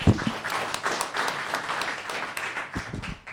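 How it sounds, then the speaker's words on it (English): Sustained audience applause at a Los Gatos town council meeting, a dense crowd of clapping hands filling the room, swelling at the start and tapering slightly toward the end. "Another round of applause."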